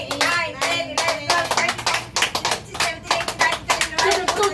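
A group at a birthday celebration claps in a quick, steady rhythm, loud and close, with voices calling out alongside the claps.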